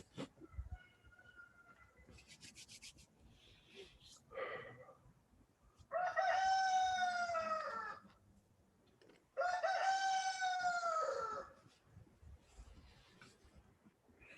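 A rooster crows twice, two long, loud cock-a-doodle-doos separated by a short pause, with softer clucks and rustling before them.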